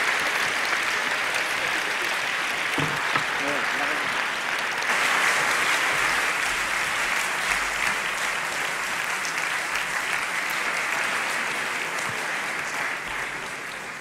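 An audience at a roundtable discussion applauds three panel guests, sustained steady clapping from a hall full of people that carries on for many seconds at a moderate distance.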